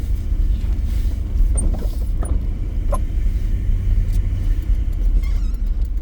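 A car drives through a winter storm, heard from inside as a steady low road rumble and hum with faint intermittent clicks and ticks, no talking.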